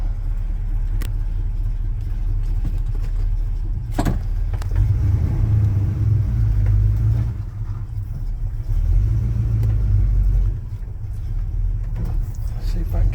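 A 1984 Chevy C10 pickup with a 4-speed drives along, its engine a steady loud low rumble throughout, with a few brief knocks and a slight dip midway.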